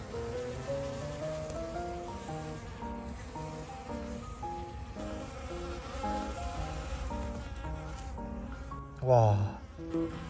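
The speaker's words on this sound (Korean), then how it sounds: "벌 소리가 살벌하네" Bees buzzing at a natural pond along a village walking path, a dense, steady swarm drone with wavering pitch that continues throughout, plus a brief louder knock near the end.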